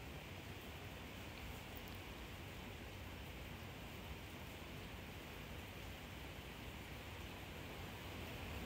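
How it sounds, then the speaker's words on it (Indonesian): Sudden rain falling steadily outside, a dense even wash of hiss and patter that stays uniform and fairly faint throughout. "Hujan guys, hujan."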